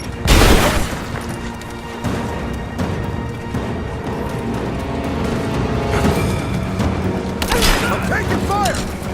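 A grenade goes off in Rise of the Tomb Raider, a heavy boom at the start followed by a dense mix of game combat noise and shouted voices.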